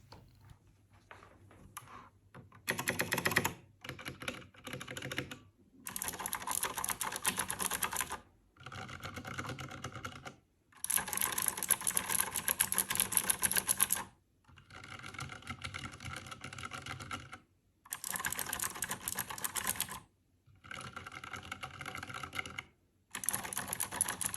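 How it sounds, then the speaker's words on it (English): Bursts of fast typing on a keyboard with Akko Sky Blue clicky switches, crisp rapid clicks in runs of a few seconds separated by short pauses, close and clear with no talking. "we'll do the comparison of the sound with Akko World Tour Tokyo, which is Akko Sky Blue switches"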